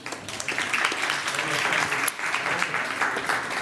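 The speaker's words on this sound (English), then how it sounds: "So a round of applause" An audience claps for a round of applause after a batch of circular fashion pitches at a demo day, a sustained, even patter of many hands with a brief louder burst midway.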